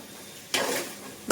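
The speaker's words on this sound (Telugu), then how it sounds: "మధ్యన ఒక్కసారి రెండుసార్లు ఇలా కలుపుతూ ఉండండి" Chicken semiya biryani being stirred in a pan, a quiet lull followed by a scraping, sizzling stir and a second short burst at the end, with no talking.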